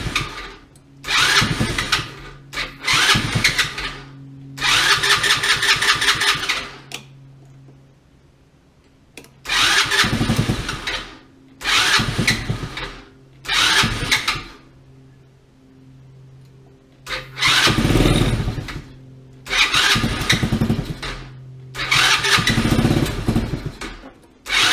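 A Tao Tao 110cc go-kart engine in a garage cranks and catches in repeated loud bursts, sputtering and revving for a few seconds each time before cutting out into near-silence, close to the microphone.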